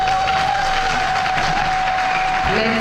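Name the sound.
crowd applause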